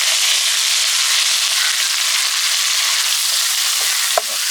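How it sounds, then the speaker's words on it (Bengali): Chopped onion with whole cumin and fennel seeds fries in hot oil in a pan, a loud, steady close-up sizzle with a brief clink of a spatula near the end. "পেঁয়াজ হালকা লাল লাল করে ভেজে নেব।"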